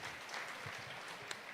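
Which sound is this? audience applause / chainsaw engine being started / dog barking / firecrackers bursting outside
audience applause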